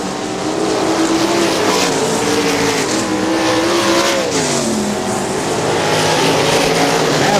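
410 sprint cars racing on the dirt oval at Butler Battlegrounds in Quincy, Michigan, a loud continuous engine roar with pitch rising and falling as cars pass close by, sustained with no pauses.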